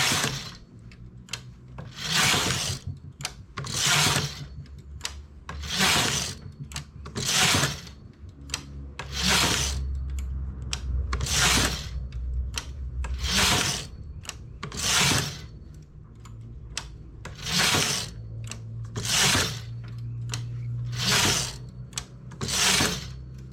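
A domestic knitting machine carriage sweeps back and forth across the needle bed working a lozenge pattern, giving regular rhythmic rubbing passes about every second and a half, close and loud, with no talking.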